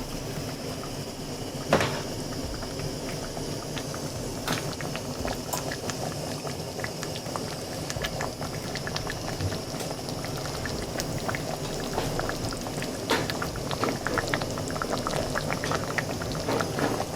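Basmati rice boiling in a pot of water for Lubia Polo, a steady dense bubbling and rolling simmer that continues throughout, fairly close, with a few brief sharper pops and no speech.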